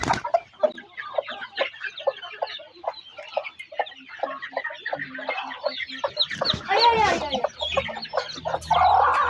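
Native country hens cluck and squawk loudly when touched, a run of close, agitated calls rising into a sharper squawk toward the end.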